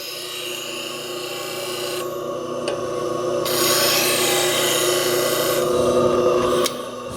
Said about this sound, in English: I'm just going to sharpen it.